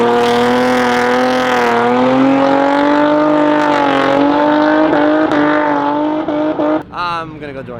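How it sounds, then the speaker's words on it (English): On a street, cars drift with engines revving hard in rising and falling howls, tires squealing alongside, loud and close before the noise breaks off near the end. "About time for the drifting."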